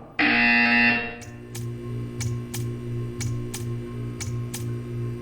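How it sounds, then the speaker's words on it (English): Loud, harsh buzzer in the Portal 2 video game sounds for about a second, then a steady low hum continues under a regular series of sharp ticks. "When you hear the buzzer, stare at the art."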